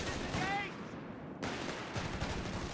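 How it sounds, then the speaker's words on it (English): Machine gun fire in a World War II strategy game battle between armored German forces, several bursts of rapid gunfire heard mid-distance, with a short squeal early on and another gun rattling near the end. "Wishbang coming over with its machine gun"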